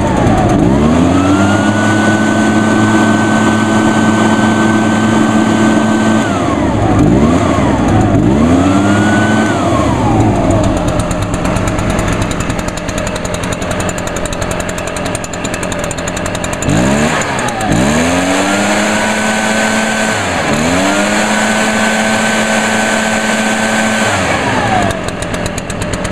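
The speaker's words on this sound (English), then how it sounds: "I love this backpack blower." An Echo backpack leaf blower roars loud and close, its engine revving up and dropping back several times in long sustained pulls with brief dips between.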